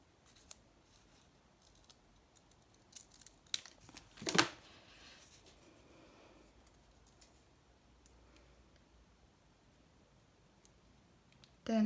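Scissors snip paper for a grungy junk journal folio made from repurposed envelopes, giving faint, sparse cuts with a brief louder burst of snipping midway through an otherwise quiet space.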